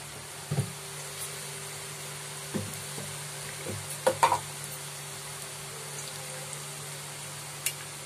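Onions and garlic frying gently in a pan with salt and turmeric for a Mughlai chicken gravy, a faint low sizzle with a few scattered taps and scrapes of a spoon, quiet and without talk.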